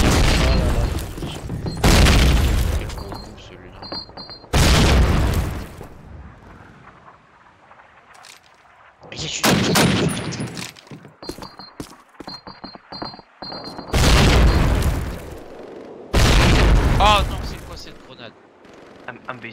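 A series of loud, booming grenade explosions in the video game Call of Duty 1, several separate blasts spaced a few seconds apart with quieter stretches of gunfire and game noise between them.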